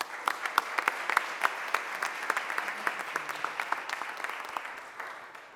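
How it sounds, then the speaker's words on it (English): Scattered, distinct claps from a modest crowd at a mayor's press conference, individual hand claps audible in a loose, uneven rhythm, fairly close and moderately loud, continuing steadily before tapering slightly. "Please give a round of applause for Sarah Ashley Andrews."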